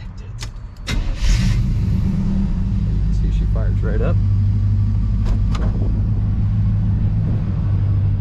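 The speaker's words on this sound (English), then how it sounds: "Go ahead and fire this thing up for you guys." A 1987 Chevrolet R10 truck with dual exhaust cranks and catches within a second. It then settles into a steady, deep, loud idle close by, and someone speaks briefly over the rumble.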